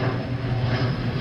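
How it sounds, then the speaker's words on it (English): Propeller aircraft droning overhead, a steady low engine hum holding at an even level from start to finish with no voices. "Thank you, airplane, for ruining my video."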